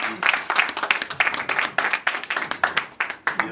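A room claps for a chef at a dinner, with rhythmic, fairly close clapping whose beats land in a loose, repeated pulse.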